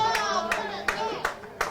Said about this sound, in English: Redtails fans are pretty happy with that kick. Yep. They're cheering.